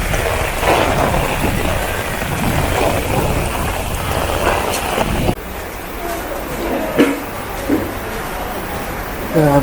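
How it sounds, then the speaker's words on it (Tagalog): Heavy rain pours down in Shanghai with a steady dense hiss, broken by a sharp thunderclap or crack partway through and a few louder splashes, while a person talks intermittently nearby. "lakas ng ulan"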